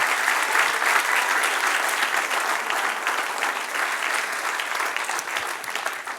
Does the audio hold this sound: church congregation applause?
yes